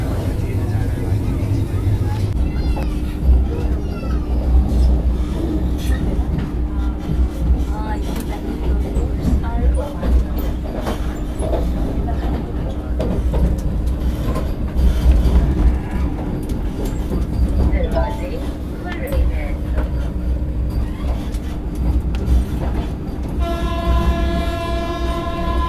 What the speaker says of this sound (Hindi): अभी देखो बगल से ये क्रॉस हो रही है बाबू धाम एक्सप्रेस